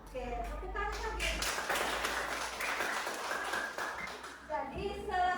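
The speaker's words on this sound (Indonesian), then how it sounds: "Oke, tepuk tangan lagi." Classroom applause rises from a group of students, a dense patter of clapping lasting several seconds, with a teacher's voice speaking before and after it.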